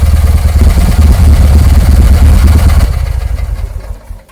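A small Isetta microcar engine runs with a steady, throbbing low idle and light mechanical clatter, then fades and cuts off near the end.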